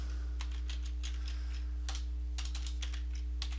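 Typing on a computer keyboard while composing a password reset email, with irregular clusters of crisp key clicks over a steady low electrical hum, fairly close and alone without talk.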